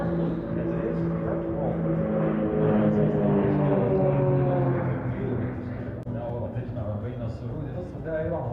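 Aerobatic display jets roar overhead at an air show, a steady broad rumble with engine drone that swells midway, heard beneath continuous loudspeaker commentary.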